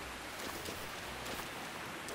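Steady rain falls in the open world of the video game Zelda Breath of the Wild, a soft continuous hiss of drops with no speech over it.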